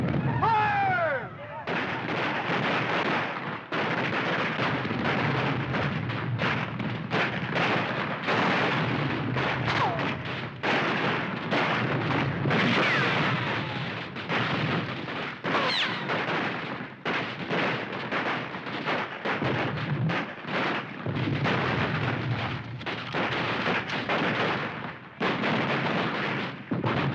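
Volleys of gunfire ring out in an old Hollywood war battle scene, loud and sustained, with heavy repeated blasts and a few shouted voices among them.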